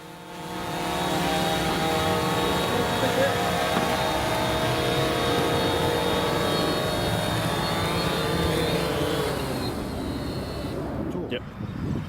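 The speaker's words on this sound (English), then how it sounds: "this is the drone coming safely back and doing a auto land from" A fishing drone flies back and descends for an automatic landing, its propellers producing a sustained close whirring buzz with tonal harmonics that shift in pitch near the end.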